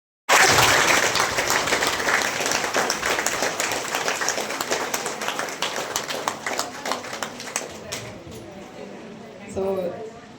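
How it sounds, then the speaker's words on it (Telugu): Applause from an audience at a women's association building inauguration, starting abruptly loud and sustained for several seconds before thinning into scattered claps, with a few voices at the end. "చప్పట్లు కొట్టండి గట్టిగా"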